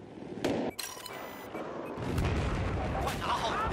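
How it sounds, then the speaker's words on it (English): Gunfire and heavy booms in the video game Battlefield 4, with sharp close shots followed by sustained rumbling blasts, partly under a voice. "He's shooting his teammate now."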